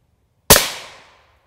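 A single sharp rifle shot hits a SiC NIJ Level IV armor plate at a range. It is a loud, sudden crack that decays over about half a second, with silence before it and no talk.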